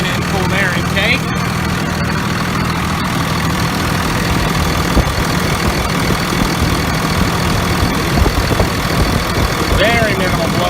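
A 2001 Dodge Ram pickup with a 24-valve Cummins diesel, HE351CW turbo, cold air intake and new VP44 pump idles steadily nearby, a low continuous rumble with a faint turbo whistle, while someone talks over it.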